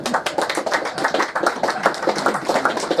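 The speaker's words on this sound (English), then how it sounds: "I don't want a round of applause though" A small audience at a UFO network talk claps in a brief, moderately loud burst of rapid, uneven hand claps heard fairly close in a room.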